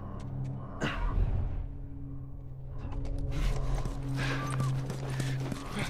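Horse hooves clopping nearby in the video game The Last of Us Remastered, with some rumbling movement, layered with scattered clicks and shuffling, no voices.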